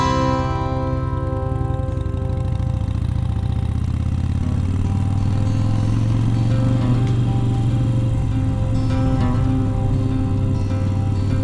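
A Harley-Davidson Iron 883 motorcycle rumbles steadily along Route 66 out of Chicago, its V-twin engine loud and close with a continuous low throb and no talking.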